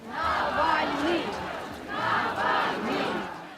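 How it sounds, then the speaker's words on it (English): Thousands of mourners outside a church at a funeral chant in two loud rhythmic surges, voices rising and falling together as the coffin is carried in, with clapping beneath the chant. "people in their thousands had come to say goodbye, clapping as the coffin went in, chanting his name, chanting, "We will never forgive.""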